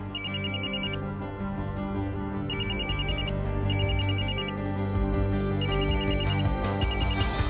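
A telephone rings in bursts of electronic trilling tones, several repeated rings spaced about a second apart over a background of music, steady and moderately loud.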